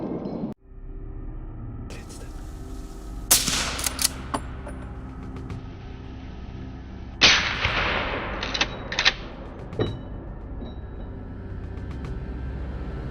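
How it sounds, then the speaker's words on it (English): A gunshot is fired at a wild boar sounder on a forest path beside farm fields: two sharp, loud blasts spaced several seconds apart, each with a brief echoing tail over a quiet outdoor background. "The gunshot sends the sounder scattering"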